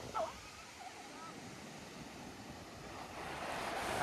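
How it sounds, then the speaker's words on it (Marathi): Sea waves wash in with a soft, continuous roar on a Konkan coast strip between sea and creek, mixed with some wind noise, swelling a little louder toward the end. "फुल मस्त असा समुद्र आहे"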